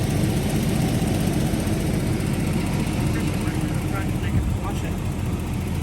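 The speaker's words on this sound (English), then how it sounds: "All right, we'll let it run in that engine." An abandoned Jaguar's engine idles with a dense, continuous rumble, steady and close throughout, with faint voices in the background.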